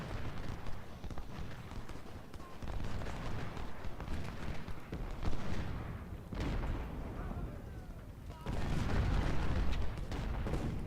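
Artillery fire in the Ultimate General: Civil War game as Confederate guns pound skirmishers at the Battle of Chantilly: repeated heavy booms and rumbling blasts under continuous battlefield din, with a louder burst near the end, while someone talks over it.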